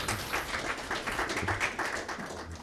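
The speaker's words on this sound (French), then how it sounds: "On applaudit pour le professeur" Audience applause for a professor after a conference talk, a steady dense patter of many hands clapping at moderate distance, continuous throughout the short stretch.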